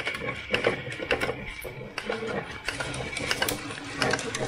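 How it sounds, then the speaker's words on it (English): 3D printer filament unwinding from a spool onto a new take-up roll through a counter, a quiet mechanical ticking and whirring with irregular clicks, close by. "Filament's coming off the spool, going on to the new roll here."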